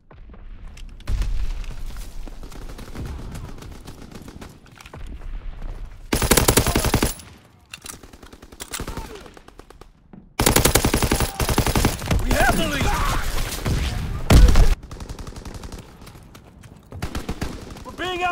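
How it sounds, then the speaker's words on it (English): Machine gun suppressing fire in Call of Duty WWII multiplayer on an Egypt map: bursts of rapid automatic fire and sharp booms that stop and start, with game voice callouts mixed in. "Need suppressing fire!"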